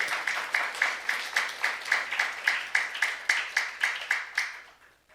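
A church congregation at a youth service claps in unison, a steady rhythmic beat of about three claps per second, fairly close and even, tapering off at the end.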